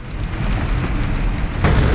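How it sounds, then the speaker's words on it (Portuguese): Heavy raindrops pelt the windshield of a moving car in a loud, dense, continuous patter, with a sharper burst of spray near the end and no voices. "Grossos pingos de chuva no para-brisa do carro em movimento."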